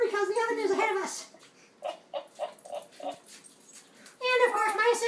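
A puppy whimpers and yips in a home kitchen in a run of short rhythmic cries, close and fairly loud, between stretches of a person talking.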